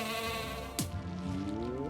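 A sheep bleats once in the video game Phobies, a loud sliding cry over constant game music and background tones, alone without talk.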